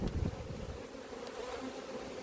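A dense, steady buzzing of many honeybees, close and continuous, with a low hum from the hive beneath.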